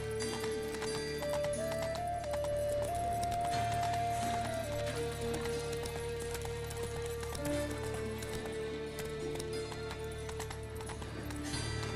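In The Witcher 3, the horse Roach gallops with a rapid, continuous clip-clop of hooves, heard under a sustained melodic music line throughout.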